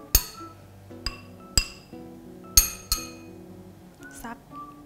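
Several sharp, ringing clinks, about five spread unevenly over a few seconds, as mayongchid fruits are dropped one by one into a glass cup, close and bright, each tone decaying quickly.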